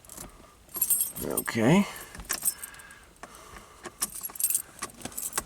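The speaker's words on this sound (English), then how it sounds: "the key goes right here by your knee" A set of keys jangles at the ignition of a 1978 Ferrari 308 GTB, metallic clinks close by in short bursts while people talk inside the car.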